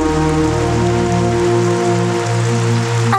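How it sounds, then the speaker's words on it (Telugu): Heavy rain pours down outdoors in a dubbed film scene, a steady hiss of rain under sustained tonal music, with no voices. "బాగా వర్షం వస్తుంది"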